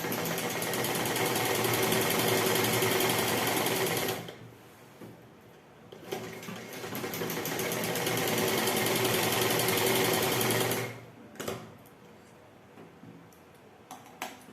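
A sewing machine stitches pieces of fabric for palazzo pants in fast, rattling bursts, running for a few seconds, pausing, then running again, with quiet gaps and faint clicks between.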